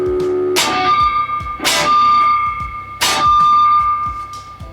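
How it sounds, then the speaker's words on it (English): A Telecaster electric guitar with unwanted ringing strings, three bright strummed chords each leaving a sustained metallic, bell-like overtone that hangs on over a steady low pulse. "Sounds like string noise, string harmonics, string ringing or something"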